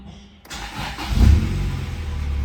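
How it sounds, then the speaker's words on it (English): A Honda CRX engine with a B18 swap cranks and catches, revving briefly before settling into a steady, close idle. "when you start the car up, it will basically idle where it should be"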